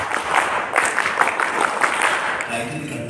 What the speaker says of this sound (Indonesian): Coba kalau begini, tepuk pramuka.